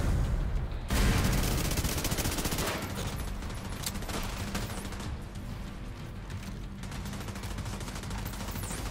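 Dense, sustained gunfire from the video game Dark Hours, a loud continuous rattle of rapid shots and bursts layered together for several seconds, close and without any talking.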